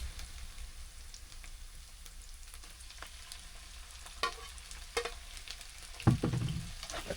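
Chopped onions and tomato frying in a pan for egg masala, a low continuous sizzle with occasional scrapes and clatters as they are stirred, growing louder near the end; close by, no voices.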